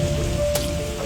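Steady rain pouring down in a scene from the film Forrest Gump, a dense continuous hiss with a low rumble beneath, with no voices.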